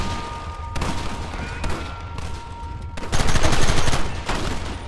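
Gunfire in the video game Red Dead Redemption: dense, rapid bursts of shots blending into a loud continuous fusillade, with a heavier volley near the end, without voices.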